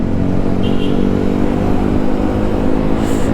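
Steady engine drone from several motorbikes running close by on a winter night, a continuous rumbling roar with no pauses and no voices.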